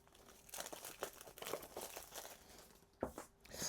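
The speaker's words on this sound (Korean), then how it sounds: "에어 5 라이트 바로 오픈해 보도록 하겠습니다" Packaging for a Soundpeats Air5 Lite earphone case is opened up close, giving faint, busy crinkling and tearing of plastic and paper, with a sharper rip near the end.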